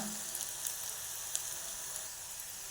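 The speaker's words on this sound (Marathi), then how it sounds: "कांदा परतून घेतला" Chopped onion for a Bombil (Bombay duck) biryani sautéing in a pan, a steady, soft sizzle with faint crackles and no talk over it.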